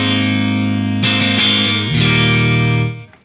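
Electric guitar played through a Synergy TDLX preamp module in a Synergy Syn20IR, both module and bright switches in the down position, ringing out loud, sustained overdriven chords that change twice before fading at the end.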